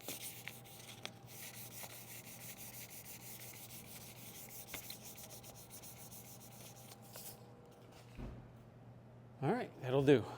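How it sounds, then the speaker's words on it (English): Hand sanding with sandpaper on a painted car repair panel gives a steady soft rasping rub that runs continuously, close and quiet, ending with a few louder handling sounds. "Sand it all the way up through."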